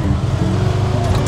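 Steady road traffic rumbling around a tuktuk, a loud, low engine and road drone with no distinct passes in this brief stretch.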